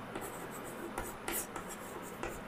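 Chalk or a marker writes on a board during a maths class, a series of short scratchy strokes in an uneven rhythm, close and fairly quiet.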